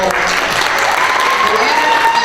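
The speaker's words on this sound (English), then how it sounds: "Another big round of applause for" Audience applause at the 2019 Miss Armada pageant after a contestant's answer, a brief, loud, steady burst of clapping from a crowded room with a few voices mixed in.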